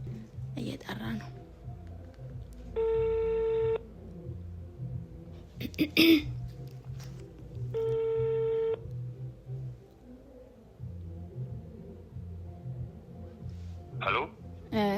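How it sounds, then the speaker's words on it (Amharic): A phone call's ringback tone sounds in two clear, evenly spaced bursts, each about a second long, with quiet household rustle and brief noises between them and no talking. "እየጠራ ነው"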